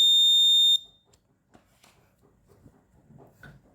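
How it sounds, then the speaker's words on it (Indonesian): A temperature alarm buzzer on a room monitoring system with an LM35 sensor gives one loud, steady electronic beep lasting under a second, then cuts off, leaving faint low rustling and handling noise. "Kalau tadi dikasih ARS, buzzernya menyala"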